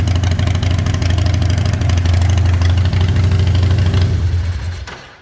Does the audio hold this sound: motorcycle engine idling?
yes